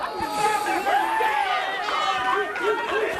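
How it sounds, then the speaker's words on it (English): A lively crowd at a CHIKARA professional wrestling show fills the hall with steady chatter, shouts and whoops throughout, sustained and fairly close, with no single voice standing out. "Pretty lively crowd here, actually."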